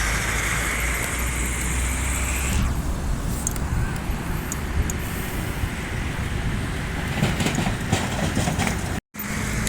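A bus from West Sumatra rumbles past with a broad, loud engine and road roar, its pitch and hiss shifting as it goes by amid steady traffic noise.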